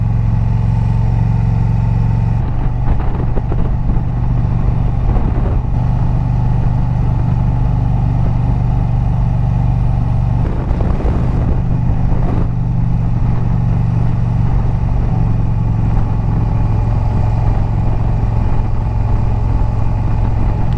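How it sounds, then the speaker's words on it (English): A motorcycle rides in first gear along a scenic byway in the Badlands hills, its engine droning loud and close with steady low harmonics, a few throttle changes and wind buffeting throughout. "these bikes are not designed to ride around on a scenic byway on first"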